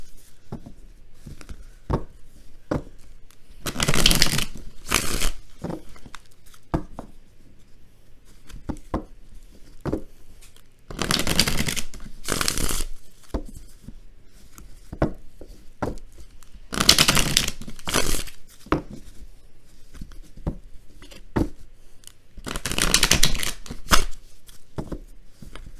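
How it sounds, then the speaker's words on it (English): Tarot cards being shuffled by hand in several loud riffling bursts spaced a few seconds apart, with softer card taps and handling sounds between, close up and without talk. "Give me a minute and a half to kind of shuffle these cards here really good"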